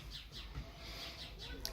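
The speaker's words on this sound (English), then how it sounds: "Hush birds." Birds chirp outdoors in a quick series of faint, high tweets repeating every fraction of a second over a soft, steady background hiss, with no talking.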